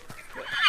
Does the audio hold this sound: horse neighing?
yes